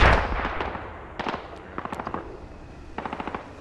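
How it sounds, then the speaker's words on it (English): Explosions from a frag rocket in the video game Squad, a loud blast opening into rolling rumble, then rapid crackling bursts of distant fire and detonations in quick clusters. "That frag rocket."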